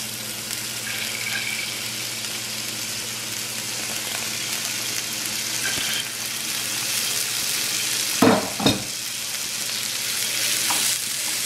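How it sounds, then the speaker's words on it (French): Ginger and tomatoes fry over high heat in a pan, giving a steady, close sizzle with a few louder bursts and clatters near the end, no voices present. "ce que je vais faire, c'est que je vais ajouter mon gingembre et mes tomates"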